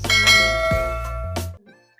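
A notification bell sound effect chimes several bright, ringing strikes in quick succession, its sustained tones overlapping before cutting off into near silence.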